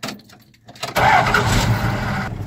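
A manual transmission truck engine cranks and catches after a quiet moment, then runs loud and close with a rough, steady idle.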